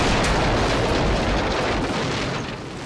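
An ammunition depot inside a bunker blows up in a Second World War battle at Omaha Beach, giving a loud, dense, rumbling blast that roars for a few seconds before fading slightly.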